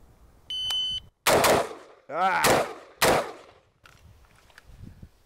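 Sharp, loud rifle shots from a Rock River Arms LAR-15 TYR CQB 11.5-inch carbine crack in quick succession, three or four close reports following a timer beep, with brief speech between them.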